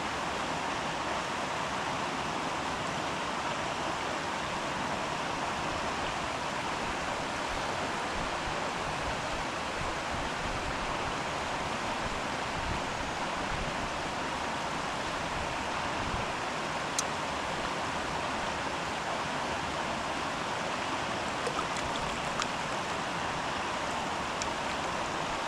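Steady, dense rush of a waterfall on a trail near Ingleton, Yorkshire, with a broad, even hiss throughout, constant and fairly close, with no voices.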